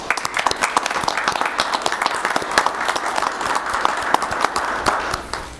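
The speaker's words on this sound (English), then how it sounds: "I think I should give you guys a round of applause for that." Audience at a city council meeting applauding, a brisk, fairly close patter of many hands clapping steadily for several seconds before tapering off.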